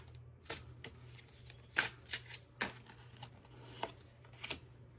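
Tarot cards being shuffled by hand, a series of crisp riffling bursts and soft slaps at an uneven rhythm, close and fairly quiet over a steady low background hum.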